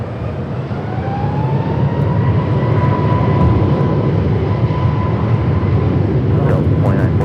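An airliner takes off from runway 24 left at LAX, its engines a loud, steady roar with a rising whine as it accelerates down the runway, heard from nearby.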